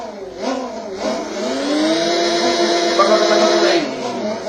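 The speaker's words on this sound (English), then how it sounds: "And there it blows my engine." A motorcycle engine in the Riding Spirits 2 racing game revs up in rising whines and holds a strained high note before cutting off, loud and close, with a voice talking briefly.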